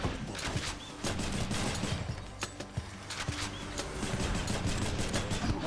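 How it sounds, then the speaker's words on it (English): Repeated gunshots in a video game, quick sharp cracks and rattling bursts over a busy, noisy background, fairly loud throughout. "I was shooting you with a gun."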